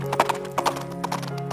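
A horse pulling a cab along a London main street: steady clip-clop hoofbeats in loose pairs, close and moderately loud, with a faint tonal hum underneath and no talking.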